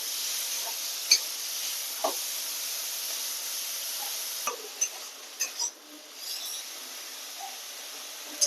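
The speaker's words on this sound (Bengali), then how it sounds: "এবার চিংড়ি মাছগুলো তেলের মধ্যে ভেজে নেব।" Shrimp fry in hot oil for a giant taro curry, giving a faint, steady sizzle and hiss with a few light clicks of a utensil against the pan.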